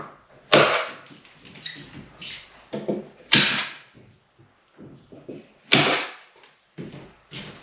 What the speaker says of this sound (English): Once you've got the corners right, then you can go over and just add a few extra staples.